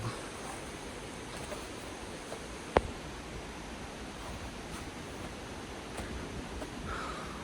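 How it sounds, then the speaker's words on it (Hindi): Steady broadband rushing of a distant jungle waterfall on the trail toward Angel Falls, a faint continuous wash with one brief sharp knock partway through and no talk. "आवाज़ सुन रहे हो ना आप लोग झरने की?"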